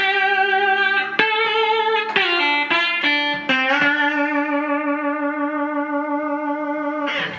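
A clean electric guitar through a valve amp with no overdrive or distortion rings out in single plucked notes and short phrases, each attack bright and then sustaining smoothly, the last long note fading slowly before a final pluck.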